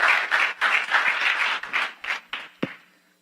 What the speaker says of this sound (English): How about another round of applause for James?